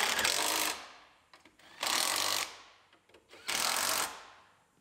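A power tool runs in three loud bursts of roughly a second each, tightening strut nuts on a Pontiac Grand Am, with quiet gaps and faint clicks between the runs.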